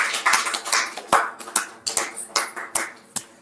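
Audience clapping as a guest is welcomed at a university startup and self-employment event, with scattered individual claps rather than a dense roar, moderately loud and close, no talking.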